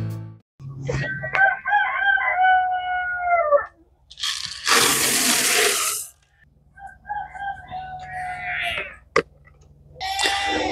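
Roosters crow and chickens cluck on a farm, several long crowing calls rising over a noisy outdoor background, with a loud burst of broadband noise between them and another crow following.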